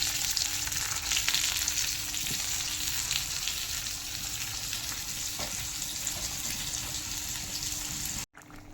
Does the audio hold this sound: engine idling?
no